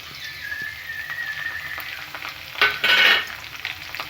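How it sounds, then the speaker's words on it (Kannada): Garlic, cumin and black pepper frying in oil in a village kitchen, a continuous close sizzle with a faint high whistling tone early on and a louder stirring burst toward the end. "ಜೀರಿಗೆ ಮೆಣಸನ್ನ ಹಾಕೊಂಡು ಅದೇ ಎಣ್ಣೆ ಫ್ರೈ ಮಾಡ್ಕೊತಾ ಇದ್ದೀನಿ ಈಗ."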